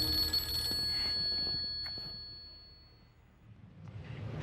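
A telephone bell rings in an indoor drama scene, a bright repeating ring that is loud over the first second and a half before fading out under low room noise.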